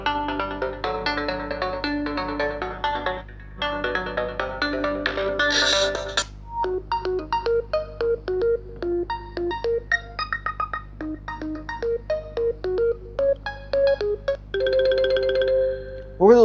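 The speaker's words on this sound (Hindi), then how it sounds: "अब जो है इसके स्पीकर्स को चेक कर लेते हैं यहाँ से कुछ रिंगटोन्स को चलाकर" Ringtones play one after another from the single bottom-mounted speaker of a Realme X3 Superzoom phone: bright, clean melodic chimes and bell-like tones, some in quick staccato runs, with short gaps between tunes.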